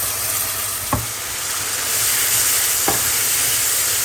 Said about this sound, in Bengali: কেচকি মাছ রান্না করার জন্য মশলা কষায় ফেলছি।